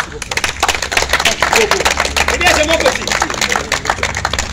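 A crowd at a songo game tournament prize ceremony breaks into loud, dense, close clapping that runs throughout, with voices talking and calling out within it.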